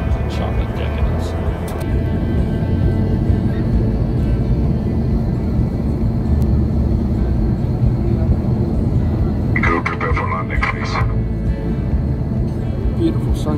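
Cabin of a Qatar Airways Airbus A350 descending toward Doha, a loud steady engine and airflow rumble filling the whole stretch, with a person talking over it near the end.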